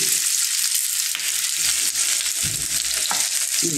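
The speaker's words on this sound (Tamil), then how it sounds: "எண்ணெயிலே கொஞ்சம் நல்லா வதங்கட்டும்." Cut taro root (seppankizhangu) frying in hot oil with mustard seeds and curry leaves: a steady, close, broadband sizzle with occasional stirring scrapes, no talk.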